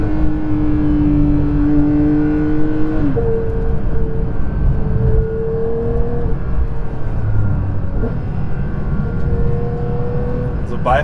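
A Porsche 911 GT3 992 driving on a wet country road, its engine droning and rising in pitch through the gears, loud and steady from inside the car, with voices occasionally under it.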